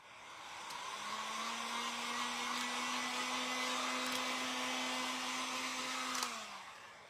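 A hair dryer blows steadily on a thrifted pumpkin craft, starting up, running loud and even for several seconds, then cutting off near the end with its hum sliding down.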